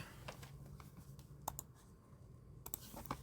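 Quiet, close typing on a computer keyboard, a few scattered key clicks and short bursts at an irregular pace over a faint room hush.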